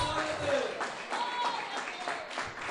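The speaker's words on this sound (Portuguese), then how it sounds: "Pode bater as palmas para Jesus." A church congregation clapping their hands for Jesus, a dense wash of many hands in a large room with voices mixed in.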